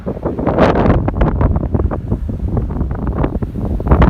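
Strong wind gusting off a lake across the Indiana Dunes, buffeting the microphone in loud, uneven rumbling bursts throughout.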